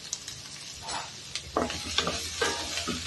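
Sautéing in a pan with curry leaves for a raw banana curry, a steady sizzle with intermittent scraping stirs and light clinks, close and moderately loud, with no speech.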